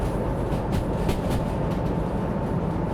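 A freight train rolls steadily along the rails in the Derail Valley simulator, a continuous loud rumble with faint rhythmic clicking of wheels over track joints, no voices.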